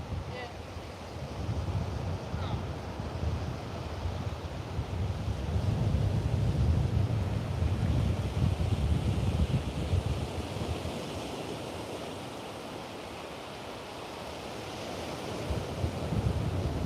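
Strong wind buffets the microphone on a Melbourne beach where kitesurfers ride, with waves surging and crashing steadily underneath in a continuous loud, rough roar.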